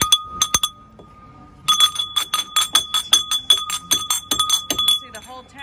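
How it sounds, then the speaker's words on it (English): A small ringing bell on a pirate ship play structure, struck repeatedly with bright metallic clangs and lingering tones, a few strikes then a pause followed by a rapid run of rings, close and loud. "does this bell ring?"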